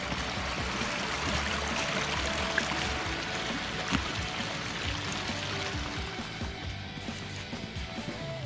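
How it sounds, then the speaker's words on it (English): A forest stream in a state forest flows and trickles steadily, a continuous close rushing babble of water with no voices and only small splashes breaking the even wash. "And we eventually made our way down to the stream."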